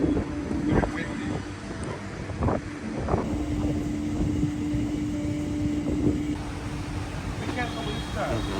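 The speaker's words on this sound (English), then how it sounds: "Very windy." Strong wind buffets the microphone on an outdoor spot in Hanoi, Vietnam, a steady rushing roar with gusty bursts. A faint hum and scattered background noises run underneath, and voices can be heard at moments.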